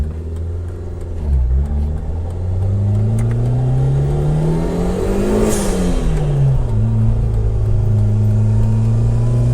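Turbocharged Fiat Uno Mille revving hard and close, with a loud engine drone that rises and falls, and a sharp hissing burst midway that fits a blow-off valve venting as the throttle lifts.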